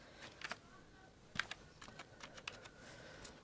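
Keys on a computer keyboard are tapped in a quick, irregular sequence of faint, crisp clicks while a password is entered, close by in a quiet room.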